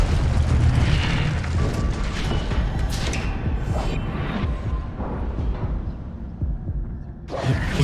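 Incendio fire spell cast in Hogwarts Legacy, heard as a run of heavy booming bursts and whooshing flares, loud at first and then easing into a lower rumble, with a sharp new burst right at the end.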